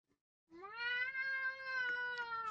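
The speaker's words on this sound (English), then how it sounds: "jumps onto the coffee table and meows loudly" A cat gives one long, loud, drawn-out meow that holds steady for about two seconds, up close in a quiet room.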